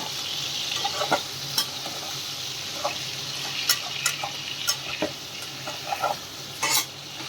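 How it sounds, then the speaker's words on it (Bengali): Two bay leaves frying gently in a pan on a low flame, a soft continuous sizzle under scattered clinks and scrapes of a spoon stirring, close up with no talk. "দুটো তেজপাতা দিচ্ছি ফ্লেমটাকে একটু স্লো করে রেখেছি যাতে পুড়ে না যায় নিচে লেগে না যায় তেজপাতার সাথে একটুখানি নাড়বো"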